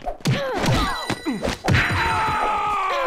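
Punches landing in the brawler video game Mad Streets, a series of heavy thuds and whacks in quick succession, with grunting character voices and a steady game background underneath.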